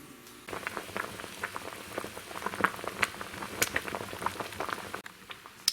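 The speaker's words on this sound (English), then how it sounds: "we're gonna get this on the stove and get it boiling." A pot of prickly pear fruit on a stove bubbles at a steady boil, with dense, irregular pops and gurgles running continuously at moderate loudness close by.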